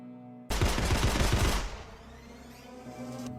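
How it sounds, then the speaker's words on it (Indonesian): Rapid burst of gunfire from the Bollywood police action film Sooryavanshi, loud and close, a dense volley of shots over a low music bed that fades into a quieter rumbling tail. "Suryavanshi, Simba, dan Singham menembak mereka bertiga hingga tewas"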